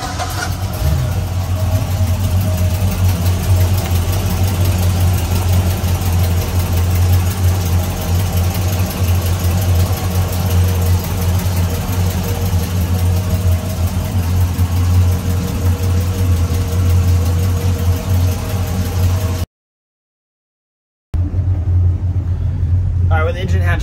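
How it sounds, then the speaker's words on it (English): A steady, loud Sea Ray 310 Sundancer boat engine drones at idle with a deep low rumble, broken by a brief moment of silence near the end. "Obviously much more manageable exhaust sounds or just engine running sounds."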